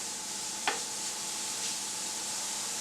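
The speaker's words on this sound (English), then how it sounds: "Just sauteing these guys together." Carrots sauté in oil with a soft, steady sizzle, and a single utensil clink sounds near the start against the quiet frying.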